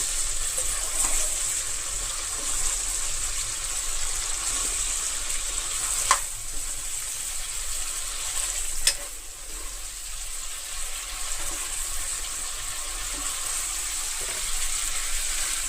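Fresh Godavari prawns frying in a pan: a constant, close, bright sizzle that runs unbroken, with a couple of sharp pops and a slight dip near the middle.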